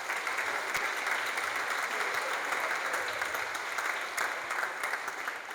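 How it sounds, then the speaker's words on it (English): An audience at a city's State of the City address applauds the sponsors, with steady, even clapping from many hands that holds for several seconds at a moderate distance. "We could have a round of applause for our sponsors"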